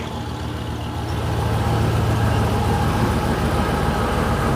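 A 1956 Chevy engine runs at a steady, loud, low idle, settling into a constant rumble after a brief lift in level about a second in, with no talking.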